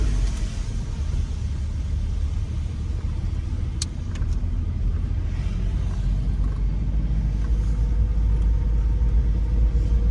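A car drives close behind on a wet city street in Atlanta's Oakland City neighborhood after rain. It makes a steady, loud road rumble with tire hiss throughout and no clear moment of passing. No one speaks.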